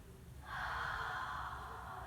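A single long, breathy exhale rasps softly through the back of the throat during yoga sun salutations, a steady hushing breath with a slight ocean-like hiss.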